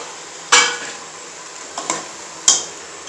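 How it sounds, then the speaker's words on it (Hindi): Chicken and green beans masala stirred in a pan, three sharp metallic spoon strikes against the pan spaced about a second apart, with soft scraping and a faint sizzle between them. "इसको 2 से 3 मिनट के लिए हम ऐसे हिलाएंगे और पकाएंगे, ताकि जो मसाला है इसमें अच्छे से रच बच जाए।"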